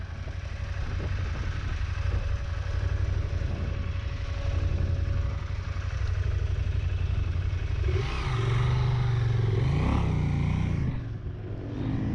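An oncoming motorcycle on a Moroccan desert trail approaches over a steady engine rumble, its revs rising and falling as it passes close by near the end, with no one speaking.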